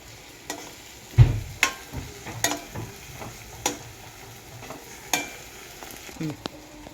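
A spatula stirs eggs frying in a hot pan, scraping and tapping irregularly over a constant soft sizzle, close and fairly loud, with no voices.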